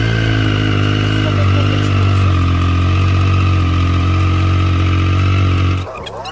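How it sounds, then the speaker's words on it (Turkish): A motorcycle engine idles loud and close with a deep, throaty exhaust rumble, holding steady before cutting off abruptly near the end. "Tok egzozla böyle bir ses çıkartıyor olması bambaşka bir şey."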